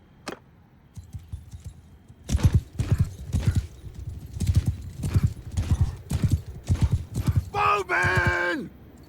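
Rhythmic hoofbeats of horses galloping in the video game Mount & Blade II: Bannerlord, loud and close, ending with a horse whinnying.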